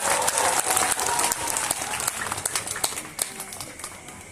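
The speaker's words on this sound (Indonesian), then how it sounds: "Boleh kita tepuk tangan untuk semua peserta dulu?" Audience applause for all the contestants at a vocal group competition results announcement during an Easter camp, dense clapping from a crowd that stays loud and steady, then thins and tapers toward the end.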